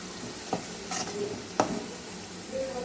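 Curry leaves frying in hot oil for a kanthari chili pickle give a steady, close sizzle. Two sharp bursts of crackle and spatter cut in, and a light scrape of stirring sounds near the end.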